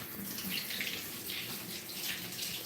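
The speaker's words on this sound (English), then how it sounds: "Let me rinse off my hands for these" Hands being rinsed under running tap water make a soft, steady stream with gently rising and falling splashes, quiet and close, with no talking.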